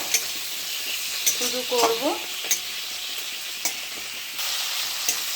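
Onion and tomato frying in a pan after a cumin tempering, giving a steady hiss with periodic spatula clacks against the pan, while a voice speaks briefly over it.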